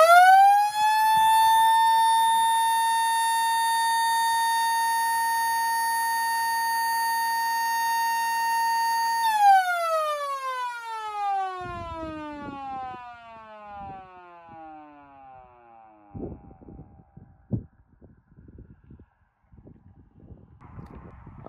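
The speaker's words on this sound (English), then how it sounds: "the first siren of today will be the Klaxon SO4" A Klaxon SO4 electronic siren, tested outdoors from 15 feet, holds a loud steady wailing tone, then winds down in falling pitch, followed by faint clatter and bumps.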